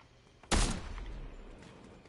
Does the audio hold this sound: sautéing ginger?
no